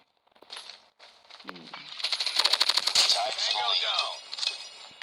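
Rapid bursts of automatic gunfire crackle through a Call of Duty Mobile match, building into a dense, loud rattle mid-clip with a few sharp single shots and clinks, while a man exclaims briefly beneath it.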